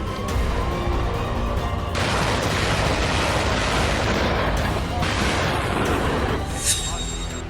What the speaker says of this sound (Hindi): ये K9 वज्र तोप है। ये वन स्ट्राइक का सबसे घातक हथियार है।